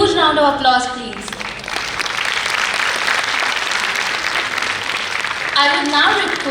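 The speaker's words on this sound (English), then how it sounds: "Can we have a huge round of applause" Large audience applauding together at a village development conference on health care and nutrition, a dense steady clatter of clapping lasting several seconds, with brief voices over the sound at the start and end.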